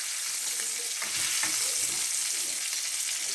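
Slices of chicken fry in a pan with a dense, continuous sizzle and crackle, close and fairly loud throughout, with no voices.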